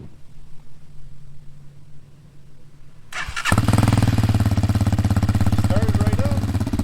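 A Honda-style mini motorcycle engine cranks and catches after about three seconds of quiet background noise, then idles loudly with a steady, rapid chugging close to the microphone.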